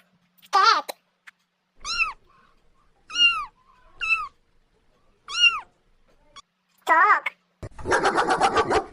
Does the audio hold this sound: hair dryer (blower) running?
no